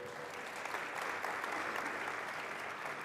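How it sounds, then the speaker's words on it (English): Steady applause from an audience at a business talk, an even, continuous patter of many hands clapping with no voices over it. "So please give him another round of applause."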